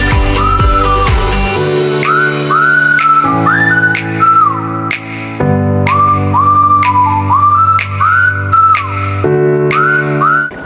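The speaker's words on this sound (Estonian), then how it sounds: "Nad vilistavad ja linnad tulevad." People whistle to call trained birds of prey, producing loud, close, repeated rising and falling whistle phrases over a low droning background, with no talking.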